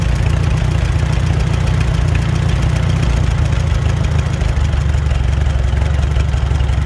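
A 1943 Farmall H tractor engine idles close by, a loud, steady low chugging with a slightly uneven knock that settles lower toward the end.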